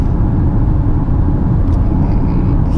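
Inside a Jetour X70 Plus SUV, the turbocharged engine pulls hard at highway speed around 130 km/h, a constant loud low rumble blended with road and wind noise, no talking.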